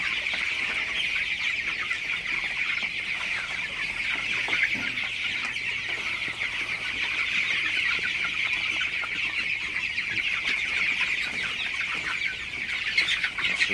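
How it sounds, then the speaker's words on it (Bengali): A shed full of broiler chickens drinking fresh water at dawn keeps up a dense, continuous chorus of clucks and chirps, steady and fairly loud throughout. "দেখতে পাচ্ছেন পানি দেওয়ার পরে কিন্তু মুরগিগুলো পানি খাওয়া শুরু করে দিচ্ছে"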